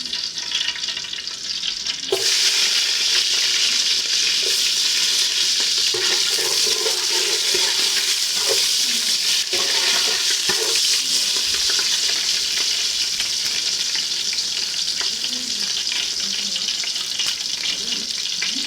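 Loud, continuous sizzling fills the air as onions hit hot oil in a pot, a dense hissing with occasional stirring scrapes, starting abruptly after a quieter moment.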